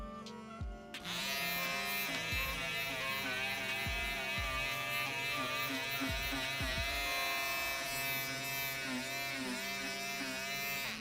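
An electric shaver shaves a sloth puppet in a workshop, a steady, close, loud buzzing hum that starts abruptly and continues throughout, with small shifts in pitch as the blades move over the fur.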